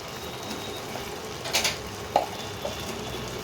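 Tomato and spices fry in oil, giving a faint, steady sizzle with a few soft clinks and stirs on top, all close by and quiet.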